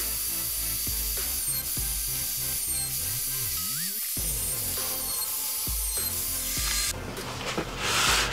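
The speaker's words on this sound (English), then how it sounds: "always run the end grain first and then the side grain second, so if there's any blowout, the router will take care of that" A router whines steadily as it cuts cabinet wood, end grain then side grain, with shifting pitch and brief dips, ending in a rougher, louder burst of cutting.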